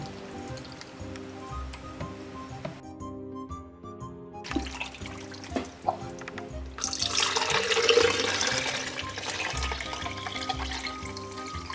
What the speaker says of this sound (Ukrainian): Наливаємо бульйон.